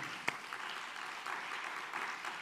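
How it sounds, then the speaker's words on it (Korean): A church congregation applauds a pastor, a faint, distant patter of many hands clapping steadily, with one sharper clap near the start. "오성훈 목사님 박수 한번 하겠습니다"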